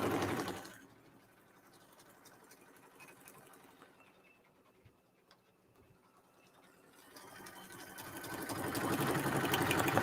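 A Brother PRS 100 Persona embroidery machine stitches in a rapid, even whir that fades down to a quiet hum in the middle and then builds back up loud toward the end.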